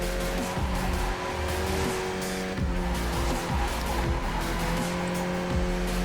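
A Skip Barber race car at full throttle at New Hampshire Motor Speedway in the racing game iRacing, a loud steady engine roar with rising and falling gear pitches and brief tire squeal.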